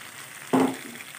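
A short scrape and sizzle as quail gravy is stirred in a hot pan, one brief stroke rising from a quiet background hiss and fading quickly.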